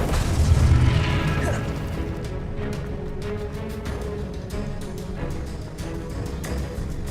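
A blasting-spell explosion in a video game goes off with a deep boom near the start, then fades into a dense, rumbling wash of crackles and sharp pops that keeps going under the game's background sound.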